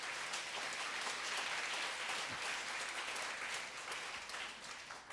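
Church congregation at a Korean worship service gives a sustained round of applause, a fairly quiet, even wash of clapping from a large room.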